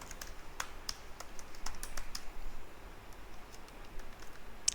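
Quiet computer keyboard typing as a password is entered, with a few soft, scattered keystrokes and one sharper click at the very end, in an otherwise hushed room.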